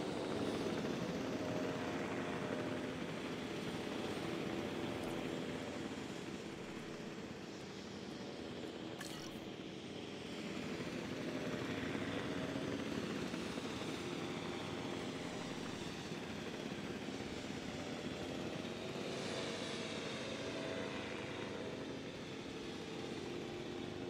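A helicopter in Jurassic World Evolution 2 flies with a continuous rotor and engine drone that swells and eases slightly over time, steady and fairly close, with no talk.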